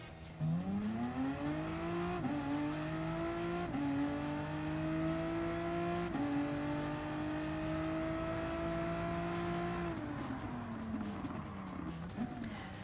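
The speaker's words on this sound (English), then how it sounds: "Now this thing may be a twin turbo engine" A twin-turbo 3-liter race car engine, the VW GTI Supersport in the video game Gran Turismo Sport, drones loudly and shifts up through several gears, its pitch rising steadily between shifts, with a brief burst of revving near the end.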